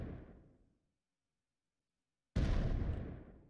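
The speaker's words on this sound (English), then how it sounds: "we'll get an explosion every three seconds" A game editor's particle explosion effect fires twice, each a loud booming blast that decays over under a second, separated by about two seconds of silence, with no voices.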